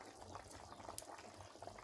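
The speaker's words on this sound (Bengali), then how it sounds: "গোশটা কিন্তু টকবক করে ফুটছে" Beef curry bubbles in a pot over a clay stove, with a steady, close gurgling boil and small pops and bursts throughout.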